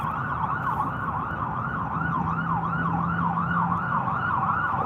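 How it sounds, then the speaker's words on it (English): Ambulance siren wailing continuously, a steady up-and-down sweeping tone with a low engine rumble beneath it, loud and close, with no speech. "That's an ambulance come to aid."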